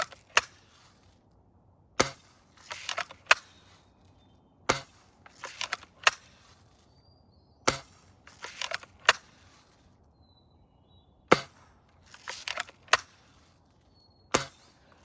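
A Western Justice Lil' Sure Shot toy gun fires repeatedly, each sharp snapping crack followed by faint clicks and handling rattles, irregularly spaced over several seconds, close and alone.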